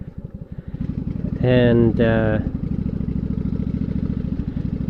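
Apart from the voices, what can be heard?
Yamaha V Star 1100 motorcycle engine idling, warming up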